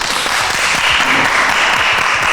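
Applause from a studio audience on a French show, a dense, loud, continuous wash of clapping with no pauses and faint voices underneath.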